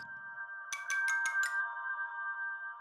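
A phone ringtone plays steadily, a sustained electronic tone with a short burst of rapid pulses partway through, fairly quiet and alone.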